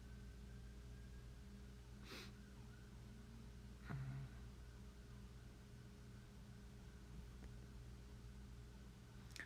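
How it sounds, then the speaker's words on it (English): Emergency vehicle sirens wail faintly in the distance, a thin steady tone under a broad background hiss, with no voices present. "every time I actually hear something, it's sirens behind me"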